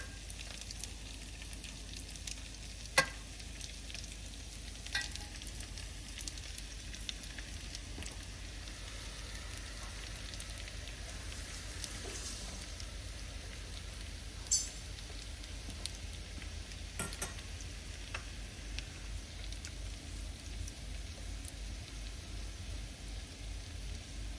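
Shrimp for shrimp scampi sizzling in a pan: a steady, soft frying hiss with occasional faint pops and crackles throughout, fairly quiet and continuous.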